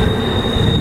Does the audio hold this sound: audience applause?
no